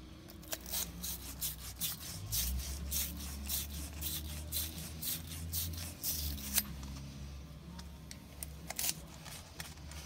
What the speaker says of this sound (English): Just going to go ahead and clean it with my tool.